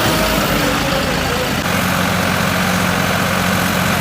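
A John Deere 5210 tractor engine labors steadily at a tractor tug-of-war against a Farmtrac 60, a continuous loud low rumble with a slight shift partway through, close by and unbroken.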